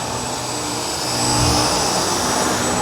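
A Dyson V10 cordless vacuum cleaner runs on a matted rug, giving a steady loud motor whine and airy suction roar throughout, with a slight swell in the middle and no talking.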